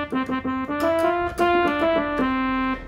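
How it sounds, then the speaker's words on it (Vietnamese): On a Casio CTK-4000 electronic keyboard, a synthesized trumpet voice plays a short run of clear, separate melodic notes that step up and down in quick succession. "tiếng này là tiếng trumpet hay sao đấy"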